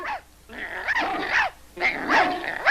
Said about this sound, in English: I think I hear a dog.